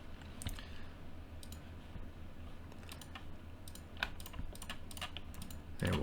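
Computer keys are pressed in short irregular clusters of crisp, close clicks with quiet pauses between them, over a low background hum.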